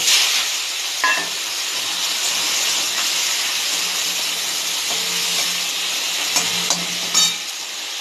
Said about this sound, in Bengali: ওই তেলের মধ্যে আমি যে নুন হলুদ মাখিয়ে চিংড়ি রেখেছিলাম ওটা ভেজে নেব